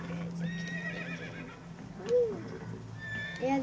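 A horse in the LittleBigPlanet video game whinnies twice, a short rising-and-falling neigh near the middle and another at the very end, over a steady bed of game music and effects.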